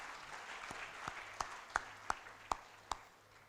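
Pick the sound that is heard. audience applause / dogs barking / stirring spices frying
audience applause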